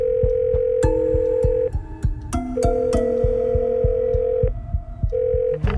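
Telephone dial tone and call tones while placing a call, clear steady electronic beeps of varying pitch in sequence, loud and close, sounding alone over low background noise.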